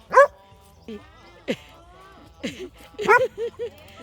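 Dog giving sharp barks and yips in short bursts, close by and loud, with a voice talking between the barks.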